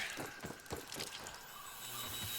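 Water being topped off at a source in the survival video game Grounded: a soft, steady trickling wash with a few brief splashy pulses early on, heard alone at low level without any talk.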